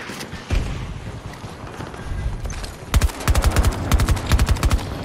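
A PBX-45 gun fires in Battlefield 2042, with sharp rapid bursts of shots in quick succession, the loudest near the end, over a background of battle noise.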